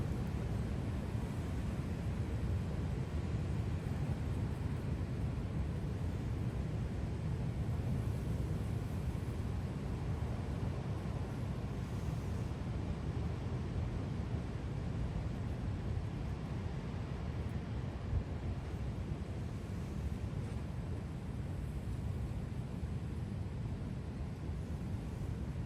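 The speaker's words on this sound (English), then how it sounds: "That wind's really picked up again now. Some real big gusts coming in." Strong storm wind gusts during Storm Darragh roar steadily as a broad, rushing noise, fairly faint and continuous, with no voices.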